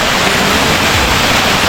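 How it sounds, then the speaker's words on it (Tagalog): Urusok-usok Falls in Camarines Sur, a waterfall pouring down into the pool below, gives a steady, dense roar of falling water that fills the whole clip without pause. "Dito yung bagsak ng tubig."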